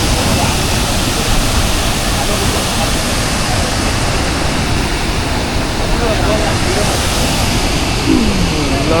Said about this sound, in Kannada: ಇದೆ ಕೋಟೆ ಅಬ್ಬಿ ಜಲಪಾತ, ತುಂಬ ಚೆನ್ನಾಗಿದೆ.